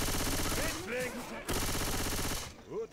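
Rapid bursts of automatic gunfire in the video game Left 4 Dead 2 crackle in dense runs with short gaps, while a voice talks briefly in German in between.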